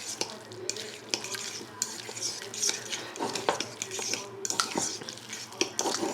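Guacamole ingredients are mixed in a bowl with a utensil, making quiet, close, irregular scraping and clinking strokes with small soft thuds between them.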